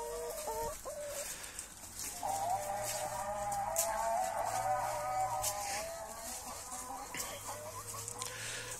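Backyard chickens clucking and calling together in a farm run, a steady overlapping chorus of cackles heard fairly close and moderately loud throughout, with no talking.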